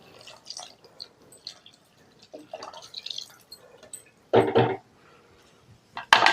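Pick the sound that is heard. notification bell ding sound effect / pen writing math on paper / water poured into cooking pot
water poured into cooking pot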